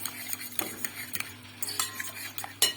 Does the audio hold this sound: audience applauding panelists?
no